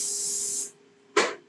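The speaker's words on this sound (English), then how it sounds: "We'll spray it first with a little bit of non-flavored," Non-flavored cooking spray hisses from a can onto a waffle iron in two bursts, a long steady spray and then a short sharp one after a brief pause, close and clear.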